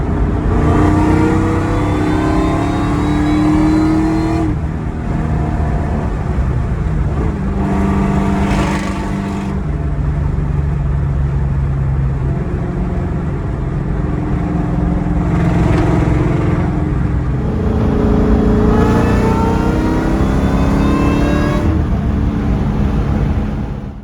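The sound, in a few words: supercharged Ford Mustang accelerating down the highway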